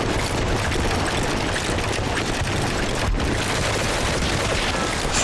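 Gunfire from the video game Medal of Honor: Heroes, a continuous loud barrage of shots and booms that fills the whole stretch without a break, with one sharper crack near the middle.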